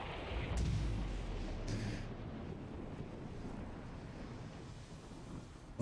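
A loud, low explosion in The Saboteur video game, a deep boom with a burst of debris hiss in its first two seconds, then a long roaring rumble that slowly settles, with no talk.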